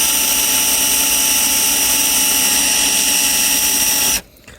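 A power drill fitted with a dull bit bores into hardwood, a loud steady grinding whine for about four seconds before cutting off abruptly.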